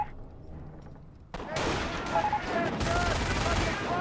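Bursts of MG42 machine-gun fire crackle through a Company of Heroes battle, starting after a quiet opening and continuing as dense, loud gunfire mixed with other combat noise.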